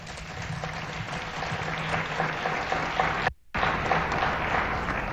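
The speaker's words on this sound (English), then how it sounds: "Please give him a round of applause." Sustained applause from a large crowd at the Africa Forward Summit, steady and dense clapping for several seconds with a brief cut near the end.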